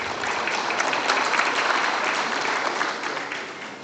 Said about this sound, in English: Let's all give them a round of applause for their valuable contributions.